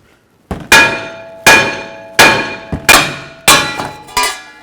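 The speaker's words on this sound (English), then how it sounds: "from the back side of the hub, I'm just going to take a hammer and just tap it" A hammer strikes the wheel hub of a 2007-16 GMC Acadia six times in an even rhythm, each blow a loud, close metallic clang ringing briefly, with a couple of lighter glancing taps between.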